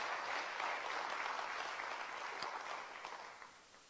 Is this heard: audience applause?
yes